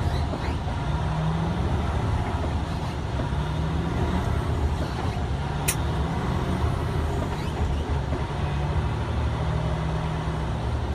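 A 2015 Freightliner truck pulls away from a traffic light on a road, its engine a steady, loud, close rumble with a brief hiss partway through and no speech.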